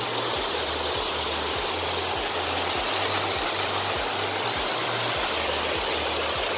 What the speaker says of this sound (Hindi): तो यहीं से जो है ये पानी निकल के जो आगे की तरफ निकलता है